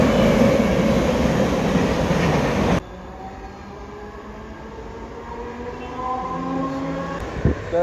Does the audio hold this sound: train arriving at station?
yes